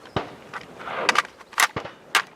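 Rifle mag dump of 300 Blackout and 5.56 rounds outdoors at Four Peaks, Arizona: a handful of sharp, loud reports spaced irregularly across a couple of seconds, with faint ambient noise between them.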